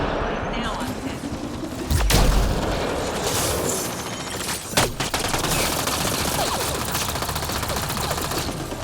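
Gunfire rattles in a Mass Effect Andromeda firefight, a steady stream of shots and pops with a heavy boom near the start and another sharp blast midway, beneath a voice.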